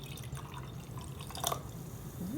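Soda pop is poured into a liquid during an acids-and-bases demonstration, with faint trickling and dripping and a brief splash near the middle, all fairly quiet.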